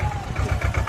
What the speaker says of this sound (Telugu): ట్రాక్టర్ని కూడా తీసుకొస్తున్నారు ఇక్కడైతే.